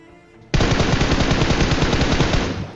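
Video game gunfire bursts in suddenly and loud after a brief quiet moment, a rapid automatic stream of shots fired at enemies that holds steady for about two seconds.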